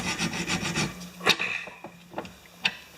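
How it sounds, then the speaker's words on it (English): A hand file rasps across a rounded-off bolt on a lawn mower in a quick series of close, rhythmic strokes, which give way to a few scattered scrapes and taps. "this bolt is pretty rounded off, but you'd be surprised what you can do with a file"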